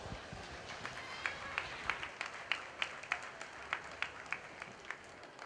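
Audience applause at a market steer show, a steady patter of hand claps spread through the crowd, moderately distant and fairly even, with a faint voice underneath.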